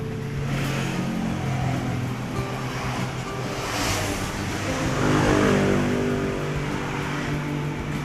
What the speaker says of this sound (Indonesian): Datsun Go pasang knalpot Suos ngorok